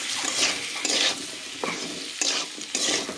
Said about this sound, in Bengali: এবার আমরা মশলাটাকে খুব ভালোভাবে ভাজা করে নিচ্ছি